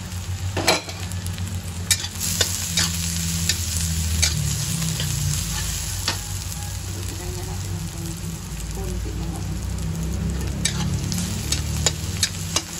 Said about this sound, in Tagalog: Lalagay na natin yung ating bawang. Maraming bawang.